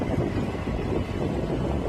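Steady, gusty wind roars across an outdoor microphone on a cold day in Ahmedabad, a dense continuous rush with no speech and no pauses.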